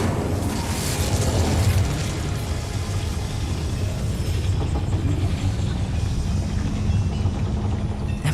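The Incendio fire spell in Hogwarts Legacy bursts with a loud, sustained roaring whoosh that is strongest at the start. A broad rumble follows and carries on at steady volume for several seconds, with no voice over it.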